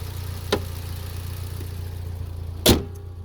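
A 2014 Mitsubishi Lancer Evolution GSR turbo with an upgraded three-stage racing clutch idles with a steady low rumble, broken by two sharp knocks or pops, the second louder, with no talk.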